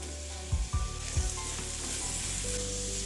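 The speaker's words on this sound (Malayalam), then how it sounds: "ഇനി നമുക്കിതിലേക്ക് സവാള ആഡ് ചെയ്ത് കൊടുക്കാം." Sliced onions hit a sizzling omelette in a pan for an Afghani omelette, giving a few quick thuds and scrapes over a steady loud frying hiss that carries on alone.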